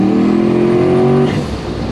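Turbocharged Chevrolet C10 pickup running about 2 pounds of boost with a BTR Stage 2 turbo cam, pulling hard under full throttle; a loud, close, steady engine drone with rising harmonics that eases off after about a second and a quarter.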